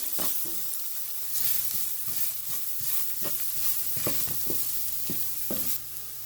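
Masala with pepper powder sautés in a pan, giving a steady sizzle underneath repeated scraping strokes of a spatula at an uneven rhythm, close and moderately loud.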